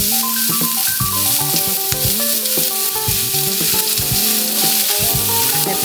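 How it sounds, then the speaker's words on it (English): Chopped onion and celery sauté in a soup pot, producing a loud, dense, continuous sizzle with stirring mixed in. No one speaks over it. "Now let's add the onion and the celery and saute for about 2 minutes."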